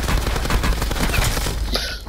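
Rapid gunfire from Call of Duty: Black Ops 4 rattles in a dense, loud burst of overlapping shots with no pause, ending in a short sharp crack.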